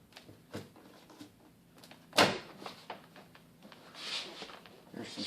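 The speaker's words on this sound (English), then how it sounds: "When this door panel comes off, you have to pop it loose from the bottom." A 1989 Oldsmobile Toronado Trofeo door panel gives one loud, sharp plastic pop as it is pried loose from the bottom, set among quieter rustles and handling noises with faint speech around it.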